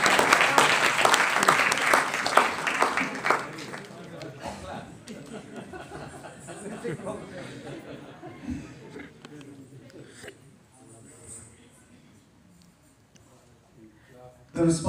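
Audience clapping in an auditorium at a dance performance event, a burst of loud applause with some laughter that fades into quieter crowd murmur and talking.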